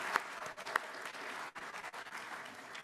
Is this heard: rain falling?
no